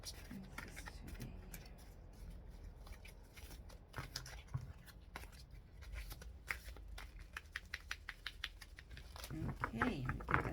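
Keepers of the Light Oracle cards are shuffled by hand, with soft riffling and a run of quick, sharp card slaps that grow denser toward the end, up close and fairly quiet.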